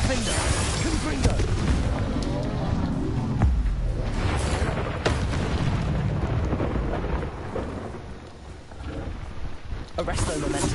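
Booming blasts and crackling rumble from an explosive Confringo spell in Hogwarts Legacy, loud and continuous across the whole stretch, with a voice speaking over the game audio.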